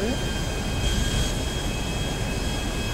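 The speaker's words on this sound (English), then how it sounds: "we are cleared for landing on runway 18" A constant loud roar of airplane engines in FiveM during a landing approach, a dense steady drone without a break.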